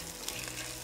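Rice with black pepper and spices frying and being stirred in a hot pan for Khaleejy rice, giving a steady, faint, even sizzle with no voices.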